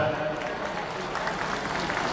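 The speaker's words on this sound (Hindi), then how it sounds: "तालियां जोरदार।" Steady crowd applause from a public event audience in Darbhanga, dense clapping filling the whole stretch at moderate level with faint voices mixed in.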